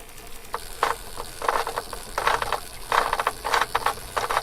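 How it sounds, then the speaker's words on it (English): A loose bicycle chain rattles with irregular clattering bursts over a steady background, fairly close and moderately loud, without speech. "it sounds like I should have brought a wrench, because this chain is way too loose"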